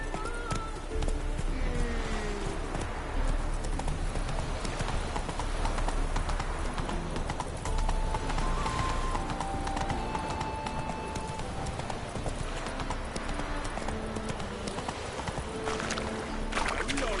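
Galloping hooves of a horse in The Witcher 3 video game, a steady rapid clip-clop running continuously and fairly loud under busy game ambience and music.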